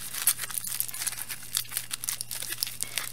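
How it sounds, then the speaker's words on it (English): Aluminum foil being scrunched by hand into a ball, a continuous close crinkling and crackling with sharp bursts, no speech. "Now I'm gonna crumple this up into the ball shape that I want for the head."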